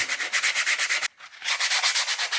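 Rapid back-and-forth scraping of hand sanding on drywall, loud and close, with one brief pause before the rhythmic strokes resume.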